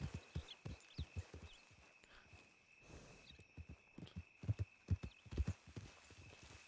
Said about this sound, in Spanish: Vale, escucho caballos.